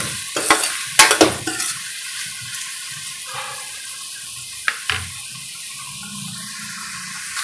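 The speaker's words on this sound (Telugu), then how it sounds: "ఈ ఉల్లిగడ్డలు తొందరగా మగ్గాలంటే కొంచెం సాల్ట్ వేయాలి అందులో కొంచెం కలర్ చేంజ్ అయ్యే వరకు వేగనివ్వాలి" Onions frying in a pan with curry leaves, a close sizzle with several loud scraping stirs and clinks early on, then quieter bubbling crackle with occasional utensil taps.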